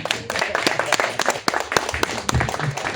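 An audience clapping for poets at an informal cultural gathering, a small group's uneven, moderately close claps forming steady applause for a few seconds.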